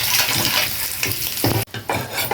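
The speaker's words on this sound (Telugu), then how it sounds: "గుడ్లు బాగా వేపేసుకోవాలండి" Boiled eggs sizzle and fry in hot oil with turmeric in a home kitchen pan, a steady crackling hiss broken by stirring scrapes and a brief quiet gap, close and fairly loud.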